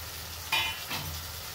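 A spoon turns spiced capsicum and potato sabzi in a frying pan, with soft scraping over a low steady sizzle and two brief louder strokes.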